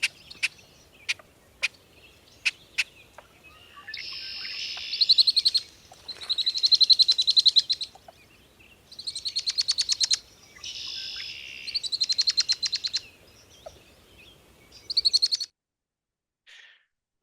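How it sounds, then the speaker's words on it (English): Recorded marsh bird calls in a wetland: a series of sharp, isolated chucks followed by repeated dry, buzzy rattling bursts, each about a second or two long, clear and close with quiet gaps between. "So this other recording is various other chucks and rattles."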